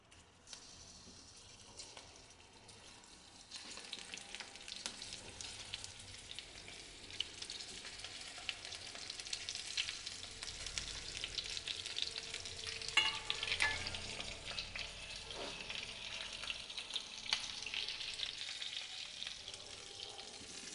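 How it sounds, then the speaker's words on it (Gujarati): Gram-flour stuffed chillies frying in oil in a kadai over a low flame, a soft hiss that swells to a steady, close sizzle with faint stirring clatter, no voices. "તો લોટ ભરેલા મરચાં છે એ આપણે એક એક કરી અને કડાઈમાં ઉમેરી દઈશું।"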